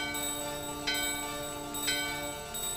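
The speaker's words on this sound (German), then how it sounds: "Die gefundene Glocke läuten." A bell in the video game Final Fantasy IX rings twice with bright, shimmering chimes about a second apart, layered over a steady sustained musical drone, with no talking.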